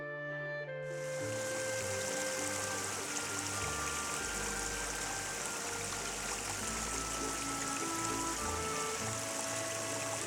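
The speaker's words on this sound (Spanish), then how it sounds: "El agua se desploma por los cortados rocosos." Water cascades down the rocky cliffs at Laguna de El Barco in a continuous hissing, splashing rush, steady and close, with a low underlying rumble and no voices.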